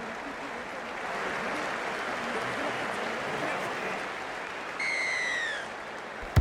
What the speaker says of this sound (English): The crowd goes up with a kickoff.